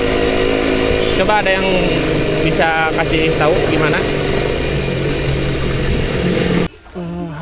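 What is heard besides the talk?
Suzuki Satria two-stroke motorcycle engine revving with aftermarket exhaust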